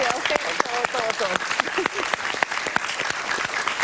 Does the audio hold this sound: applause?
yes